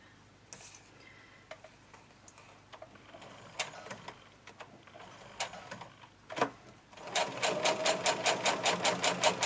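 A sewing machine running a zigzag stitch, starting with scattered clicks and handling noises, then breaking into a fast, even mechanical ticking burst of stitching near the end, close and clear.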